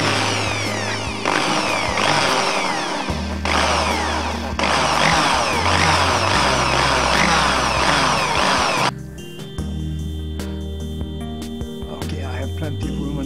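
A power drill bores into a boat panel in a cramped spot inside a boat, whining loudly up close in long bursts with speed changes, then dropping to a quieter, lower run near the end.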